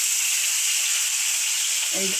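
Large pieces of boal fish go into hot oil with a loud, dense, continuous sizzle up close, and a brief voice sounds at the very end.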